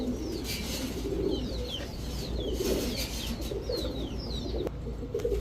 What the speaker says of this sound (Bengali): এই হচ্ছে ইন্ডিয়ান ঝাঁকগলা একটা নর